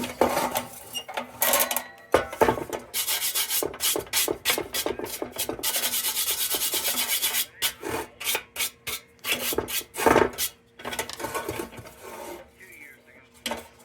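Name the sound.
brass brush scrubbing a metal lantern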